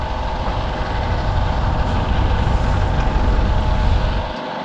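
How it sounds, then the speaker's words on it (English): A dinghy's outboard motor runs steadily nearby, a loud, even engine drone that cuts off abruptly at the end. "using an outboard to catch up with the rest of the"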